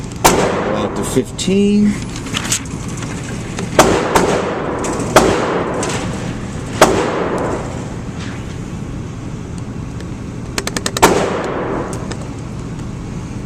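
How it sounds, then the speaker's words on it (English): A Beretta 92X pistol is fired at an outdoor range, with several loud, sharp shots spaced a second or more apart, a quick double shot late on, and someone speaking briefly between them. "We are shooting the 92X."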